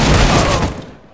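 Gunfire in CS:GO, a loud close burst of rapid shots packed into about a second, fading out at the tail.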